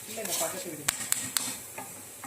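Urad dal frying in hot oil in a pan for coriander chutney, a soft continuous sizzle with a few sharp stirring clinks and scrapes of a spoon against the pan, close and fairly quiet.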